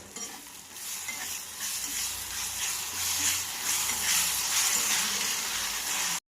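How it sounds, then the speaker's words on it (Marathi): Ginger garlic paste frying with chillies in a pan, a steady close sizzle and hiss that swells louder as the paste is stirred, with no talking. "आता आपण याच्यामध्ये अद्रक लसूण पेस्ट ऍड करणार आहोत।"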